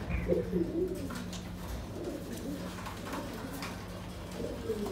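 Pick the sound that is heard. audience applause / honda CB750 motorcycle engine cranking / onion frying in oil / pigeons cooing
pigeons cooing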